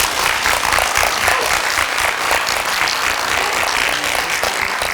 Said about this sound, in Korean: 박수 좀 보내드릴까요